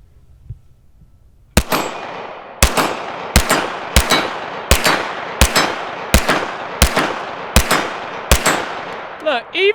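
A Sig Sauer P365-Flux pistol fires about ten sharp, loud shots at a steady, quick rhythm, each crack ringing out briefly, with a small noise just before the first shot.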